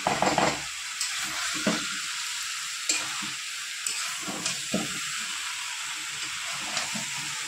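Masala cooks down with raw jackfruit in a pan for Bengali jackfruit-and-prawn curry, making a steady sizzle broken by repeated scraping stirs at a close, moderate level, with no speech.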